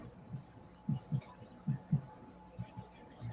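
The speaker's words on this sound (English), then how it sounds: "I'm hearing what sounds almost like a heartbeat in the background." Soft, low heartbeat-like thumps in the background, coming in uneven pairs and singles across a quiet, faintly humming room.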